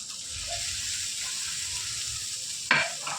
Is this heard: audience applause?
no